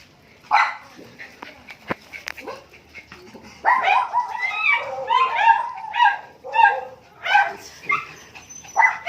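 Several pet dogs bark, yip and whimper in an excited commotion close by, the noise swelling into rapid overlapping bursts after a few scattered yelps, with people talking in between.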